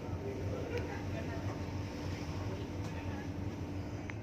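An old, very slow ferry sailing toward Koh Samui thumps along with a steady, low engine rumble and throbbing pulse, with faint voices underneath.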